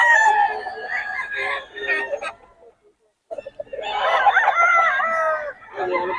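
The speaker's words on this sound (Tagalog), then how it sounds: "solid mga manok ng Boss Batang." Roosters crow loudly and repeatedly among clucking chickens, close by at a fighting-cock gathering in Bocaue, with a short silent gap between the bursts of calls.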